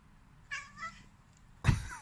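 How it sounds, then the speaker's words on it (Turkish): A house cat gives two meows, a short drawn-out one and then a louder, sharper one a second later, close by in a quiet room. "anne diyen kedi"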